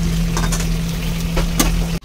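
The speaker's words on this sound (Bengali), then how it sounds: "লাল লাল করে আলুটা ভাজবো।" Potatoes frying in a pan, a close, continuous sizzle with scattered crackles over a steady low hum, ending with an abrupt cut.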